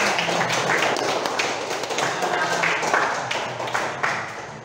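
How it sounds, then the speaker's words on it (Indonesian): A classroom of students applauds a classmate, a dense burst of many hands clapping together that holds steady and slowly thins toward the end. "Tepuk tangan dulu untuk teman kalian."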